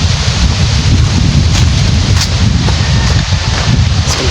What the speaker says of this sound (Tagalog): At malakas po ang hangin.